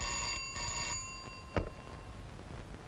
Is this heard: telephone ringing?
yes